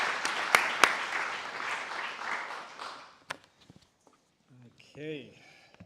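Applause from the audience at the close of a symposium on human augmentation technologies, a dense burst of clapping for about three seconds, followed by quieter scattered sounds and a brief voice.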